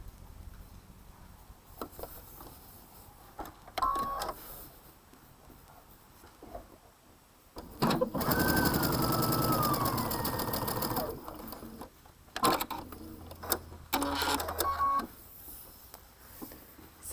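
A sewing machine runs a long, straight row of loose basting stitches in one steady burst of several seconds, with short bursts and quieter fabric handling before and after.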